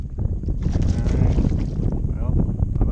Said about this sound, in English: the wind just picked up and blew me hard here